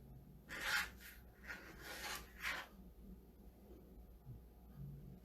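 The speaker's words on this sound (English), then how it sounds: "you can see with the larger squeegee, this goes very, very quickly" A large squeegee drags chalk paste across a silk screen transfer, giving a few soft, raspy scraping strokes close up against a quiet background.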